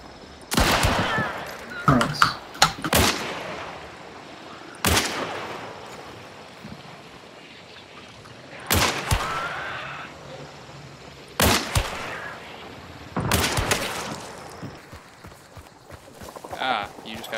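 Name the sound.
gunshots in the video game Hunt Showdown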